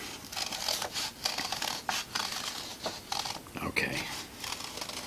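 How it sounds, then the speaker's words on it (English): Scissors snip and pierce through paper in short, irregular cuts while making a craft mask's eye holes, quiet and close, with scattered scratchy rustles between snips and a voice talking through it. "just simply pierce through with my scissors carefully, be careful, and take that eye area out"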